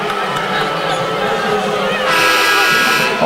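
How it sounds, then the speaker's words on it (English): A home crowd at a women's college basketball game between Liberty and Duke grumbles and then rises into loud booing and shouting after a foul call, with an announcer talking over the arena noise. "Hometown crowd doesn't like it."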